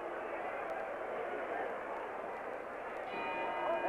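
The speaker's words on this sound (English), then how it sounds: "There's the bell." A ring bell sounds near the end of a round in the Larry Holmes versus Mike Weaver heavyweight boxing match, its clear ringing tone rising over a steady roar of arena crowd noise.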